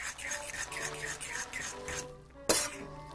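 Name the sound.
stirring Kinchan squid instant yakisoba noodles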